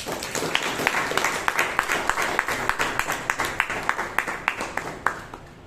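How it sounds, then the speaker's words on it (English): Steady rhythmic clapping from the audience at a Bangalore Toastmasters club meeting, with sharp regular claps throughout and a slight fade toward the end. "kindly give a huge round of applause to the president of the Bangalore Toastmasters Club, Toastmaster Joseph Paul"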